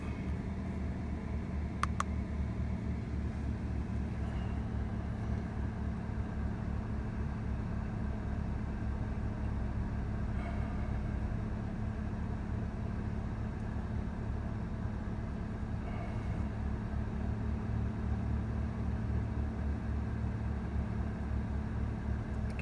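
A car engine idles with the air conditioning running during an A/C pressure transducer check, giving a steady low hum and rumble with faint intermittent clicks over a long stretch.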